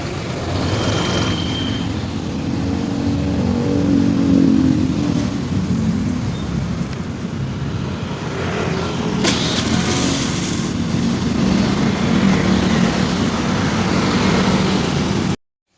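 Honda Spacy scooter engine running steadily while riding, a continuous loud motor drone with road and wind noise throughout, no speech.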